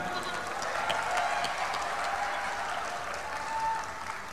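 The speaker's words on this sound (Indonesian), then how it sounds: "Tepuk tangan dong untuk Tursina." Audience applause rings out at an Islamic university graduation ceremony in the Tursina IEBS venue, a sustained crowd of clapping hands with a faint murmur of voices underneath.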